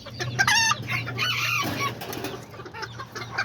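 Serama and silkie chickens cluck close by in a backyard coop, a hen calling repeatedly among short, busy clucks and brief wing flutters, fairly loud and near.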